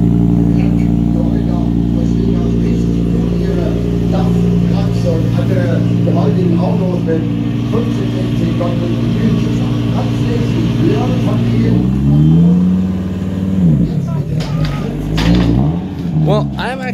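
An Audi Quattro rally car idles loudly with a deep, steady engine note, then blips and revs sharply near the end, heard up close with talk around it.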